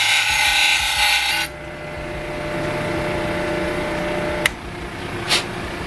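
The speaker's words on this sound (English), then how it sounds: "I'm gonna go grind off this lip." A router grinding the plastic lip off a car tweeter mount, a loud high-pitched whining cut for about a second and a half, then winding down to a low hum with two brief clicks.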